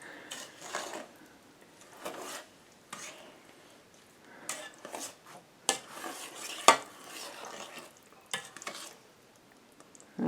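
A spoon stirs a fudge mixture of butter and sugar in a pot, faint scattered scrapes and soft knocks in irregular bursts separated by quiet gaps.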